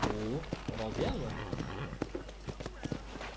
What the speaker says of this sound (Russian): Просто взял рандомную лошадь и на ней поехал.